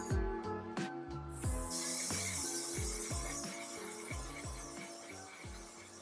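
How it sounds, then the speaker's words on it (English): A steady hiss of makeup setting spray bursts in partway through and continues to the end over rhythmic background music. "If you're not drowning in setting spray, it's not enough."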